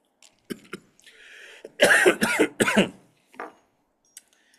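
A burst of several harsh coughs in quick succession, close and loud, with softer throat sounds and small noises before and after.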